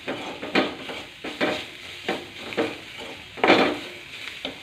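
Spiced food with pepper powder, garam masala, curry leaves and a spoonful of soy sauce sizzles steadily in a pan, stirred in repeated close scraping strokes roughly every half second to second.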